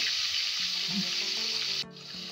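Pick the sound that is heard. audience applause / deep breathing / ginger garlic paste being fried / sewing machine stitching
ginger garlic paste being fried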